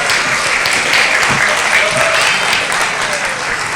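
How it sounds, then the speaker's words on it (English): A crowd applauds at an annual day event for a class performance, with loud, continuous clapping from many hands and faint voices mixed in. "let's give a big round of applause for Shivanandam class"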